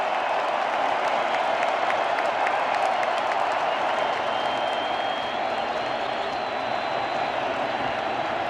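A baseball stadium crowd at a 2017 World Series game between the Dodgers and Astros roars and applauds steadily throughout, a loud, dense wash of cheering and clapping with no break.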